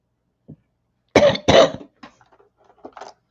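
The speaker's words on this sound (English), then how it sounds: "You guys, I've been coughing." A person coughs several times: one faint cough, then two loud harsh coughs close together, followed by quieter throaty hacks and a last small cough.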